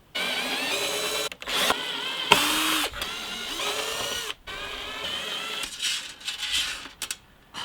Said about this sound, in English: I've got to just take a little bit out of the hinge cavity routing